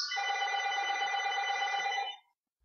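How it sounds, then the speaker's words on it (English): A telephone rings indoors during a gentle yoga class, one continuous electronic trill of about two seconds that stops abruptly, with no talking over it. "sorry about the phone ringing,"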